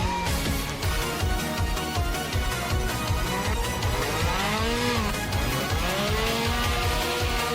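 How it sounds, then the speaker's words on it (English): Racing cars in an Initial D fan film roar past with rising and falling engine whines and tire squeal layered over a pulsing music beat, loud and continuous. "Damn, they racing."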